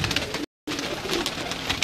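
Pigeons coo close by on a rooftop in Kasur, soft throaty calls repeating over a busy background, broken by a brief moment of dead silence partway through.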